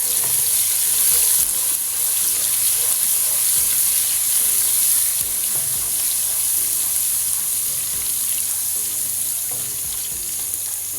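Ginger garlic paste frying with lightly browned onions in a kitchen pan, a steady loud sizzle with occasional stirring clatter, continuous and close with no talk.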